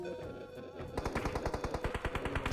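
Automatic gunfire in the mobile shooter game PUBG Mobile: a rapid, steady burst of evenly spaced shots starting after a brief lead-in, continuing at a quick rhythm at moderate loudness.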